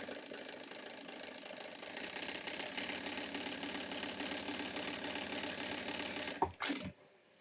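A GS90 sewing machine, model 701D4, running a decorative stitch pattern number 7 with double thread, a steady fast mechanical whirr close up for several seconds before it stops with a brief clunk.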